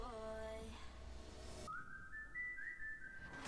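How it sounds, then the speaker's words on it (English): Melodic whistling from the K-pop song Marionette by Lapillus, a bright sliding whistle line that enters midway over the music's backing, clear and prominent. "Oh, I like the whistle."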